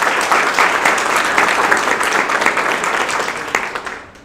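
A crowd at a graduation ceremony in Pitt County applauds a graduate, dense steady clapping filling the room and then thinning and fading out near the end.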